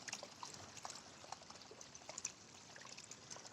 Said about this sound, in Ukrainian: И журчить тут струмочек, ручеек.